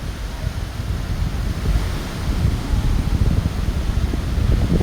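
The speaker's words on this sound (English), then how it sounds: "So the wind isn't too strong today at this beach" Wind and surf on a beach in Trinidad on a day with only moderate wind: a steady close roar of breaking waves mixed with gusty wind buffeting, continuous and fairly loud, with no voices.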